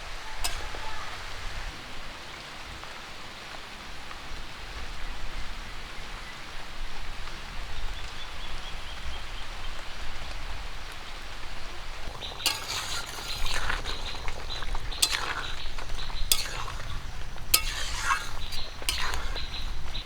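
Katla fish pieces frying in hot oil in a pan for a Bengali kalia curry, a steady low sizzle that turns into sharper crackling pops and spits in the second half, fairly close, with no talk.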